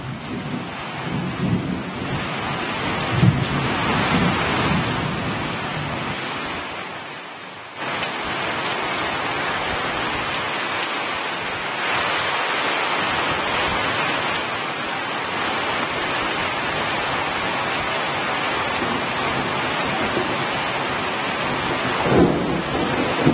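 Heavy rain with hail in Karnataka roars steadily throughout, a constant broadband wash with brief shifts in intensity and no voices.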